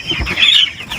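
A young chicken under one kilogram, about twenty days old, gives a short, close cluck lasting about a second, clear and alone with no talk.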